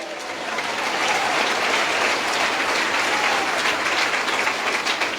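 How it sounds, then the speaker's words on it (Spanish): Loud, sustained applause from a large church congregation fills the air, continuous and even for several seconds. "Fuerte aplauso, Iglesia de Cristo."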